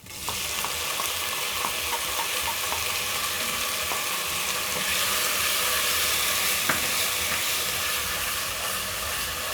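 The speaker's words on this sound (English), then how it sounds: "My garlic and onions are ready, so I'm going to add in tomatoes." Tomatoes hit a pan of frying garlic and onions, giving a loud, steady sizzle with continuous hiss and a few soft stirring scrapes, no voices over it.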